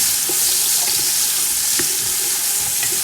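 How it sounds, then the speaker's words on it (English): Steady crackling sizzle of onions frying in hot oil, with a few sharper pops and taps over the continuous hiss. "I'm just gonna add onions. You wanna hear this sizzle."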